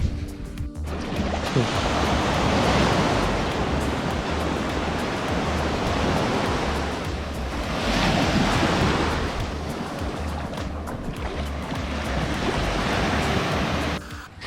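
Ocean surf rolls in on Flamenco Beach, Culebra, Puerto Rico: a steady, close broadband roar that swells and eases as waves break, with wind rushing across the microphone and no voices.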